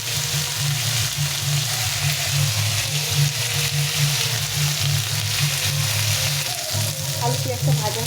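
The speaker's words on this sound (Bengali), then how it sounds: "আলু আর পেঁয়াজটাকে কিছুক্ষণ একটু ভেজে নিতে হবে।" Potatoes and onions sizzle steadily in hot oil in a pan while a fish-head kanta chochchori is cooked, a constant close frying crackle with a low hum underneath and a few stirring scrapes near the end.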